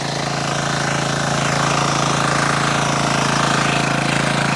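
A diesel power tiller engine chugs steadily and loudly in second gear while tilling soil, a continuous mechanical rumble with rapid rhythmic knocking and no voices.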